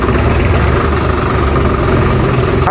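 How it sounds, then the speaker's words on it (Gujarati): A tractor engine idles loudly and steadily up close as it is driven out, a dense, even rumble with no breaks or talk. "આપણે કાઢી લીધું ટ્રેક્ટર બહાર"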